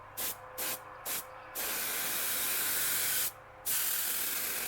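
An aerosol spray can coats rat rod link bars with several short bursts of hissing spray, followed by two longer sustained sprays separated by a brief pause, close and fairly loud with no talking.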